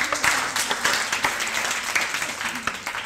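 An audience at a Buddhist talk on right speech claps for a woman who answered correctly, a brief, lively burst of applause with individual claps standing out, quieter voices faint beneath.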